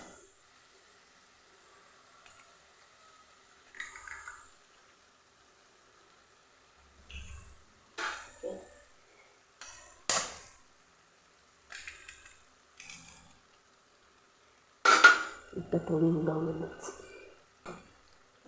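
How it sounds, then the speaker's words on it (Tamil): Three eggs are cracked into a pan for a spinach and egg stir-fry, giving a few sharp, isolated taps and cracks spaced seconds apart, and the last is followed by a brief sizzle while a voice talks quietly in between. "மூணு முட்டையும் உடச்சி நான் இதில் இப்போ சேர்த்துக்க போகிறேன்"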